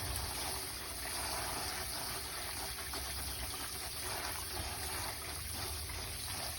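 Water pouring steadily from a garden hose into a hydroponics reservoir tank to mix in water-soluble fertilizer, a constant rushing trickle with a low pump-like rumble, close and unbroken throughout.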